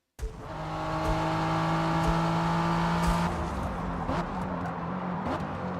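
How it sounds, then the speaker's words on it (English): A Ford car in the Forza racing game drones with a steady engine note, then shifts into a rougher, noisier rumble, heard at moderate volume with no speech. "listen to this car. When it hits rumble strips, it sounds like it's about to fall apart"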